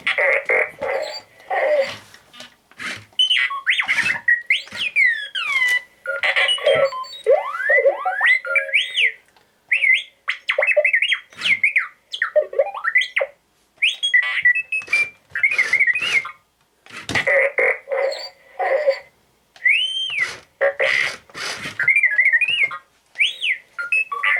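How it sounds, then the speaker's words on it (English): Rapid electronic beeps, chirps and warbling whistles from an R2-D2-style astromech droid toy built at Galaxy's Edge Droid Depot, coming in busy bursts with short pauses between them. "It's a lot of beeping."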